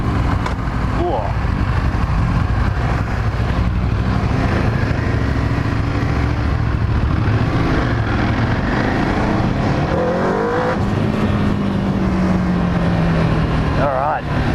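An EBR 1190RX motorcycle engine drones loud and close throughout, shifting pitch as it is ridden and revved, with wind rush and someone talking over the steady engine noise.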